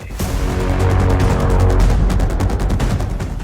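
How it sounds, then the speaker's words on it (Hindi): Rapid bursts of heavy gunfire and booming blasts rumble continuously, loud and dense, like a fusillade rolling on without pause, in an attack on US military bases in Turkey. "यह तुर्की में अमेरिकी सैन्य अड्डों पर ईरान का धमाका है"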